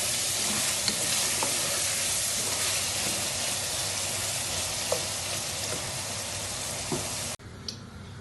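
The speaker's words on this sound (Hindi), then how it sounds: "मैंने यखनी इसके अंदर डाल दी है। इसको हल्का हल्का बॉयल आना स्टार्ट हो गया है।" Chicken yakhni stock simmers and starts to boil in a pot for pulao, a dense steady bubbling hiss with occasional faint clicks, cutting off abruptly near the end to a quieter background; no speech.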